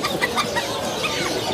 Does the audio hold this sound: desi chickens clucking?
yes